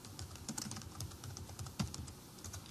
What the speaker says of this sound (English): so I will type that in here